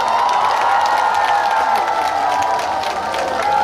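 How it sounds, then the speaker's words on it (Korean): A crowd at the Bongseonsa temple lotus festival applauds and cheers to welcome the head monk, a loud, steady wash of clapping and whoops sustained throughout with no talk over it. "여러분, 주지 스님 한번 큰 박수로 모셔볼까요?"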